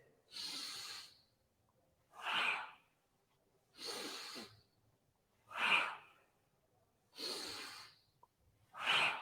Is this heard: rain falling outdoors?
no